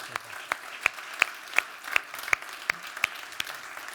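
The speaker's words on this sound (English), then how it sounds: "Another round of applause" Keynote audience at a digital technology conference claps in a slow, evenly spaced rhythm of distinct single claps, heard faintly and somewhat distant.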